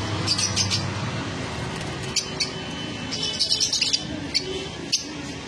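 Cockatiels and lovebirds at a bird sale give scattered high chirps and squawks in short clustered bursts over a constant low background hum, fairly close, with no voices.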